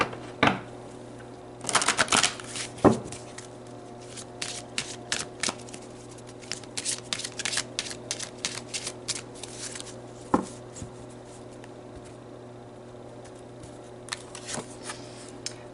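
Tarot cards shuffled by hand before a card is pulled, giving bursts of crisp riffling and slapping clicks at close range, with quieter gaps between bursts and no talking.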